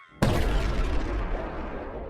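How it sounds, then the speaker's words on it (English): A large crystal shatters in a huge blast: after a moment of quiet hum, a sudden loud boom bursts out and rumbles on with a long, dense roaring decay. "the crystal shatters, emitting a bright light and a large explosion"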